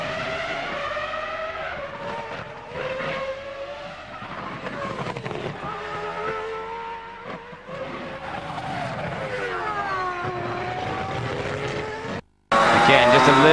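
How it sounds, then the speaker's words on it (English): Onboard a Formula One car driven by Montoya in 2002 Canadian Grand Prix practice, a loud screaming V10 engine rising and falling through gear changes and braking, with a brief cut near the end. "Let's ride with Montoya for a moment here."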